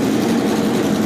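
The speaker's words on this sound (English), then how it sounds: "And Mark Reed's car is engine running again." A Formula BOSS race car engine runs at Kirkistown circuit pits in Ireland, a loud, steady low-pitched drone with a strong hum, close and continuous without changes in revs.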